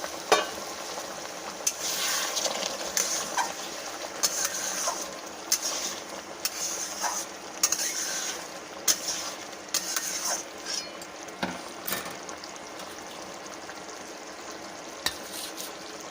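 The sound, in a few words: hot water added to sizzling pan of matar paneer curry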